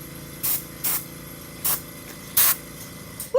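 Bursts of brown spray paint from a sprayer, five short hissing blasts at uneven intervals, close and fairly loud over a quiet background.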